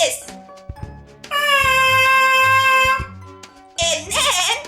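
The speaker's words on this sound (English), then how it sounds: "Then you can buzz your lips into the mouthpiece like this." Lips buzzing into a trumpet mouthpiece, a steady pitched drone of nearly two seconds followed by a shorter wavering buzz, close and loud, with brief talking before it.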